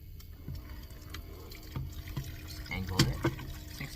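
Tap water runs and splashes while a pot and its lid are rinsed at a small sink inside a camper van, with soft clatters of cookware and uneven trickling close by.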